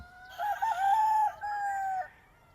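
A rooster crows loudly and nearby on a farm, one long drawn-out call with a quieter hum of background ambience.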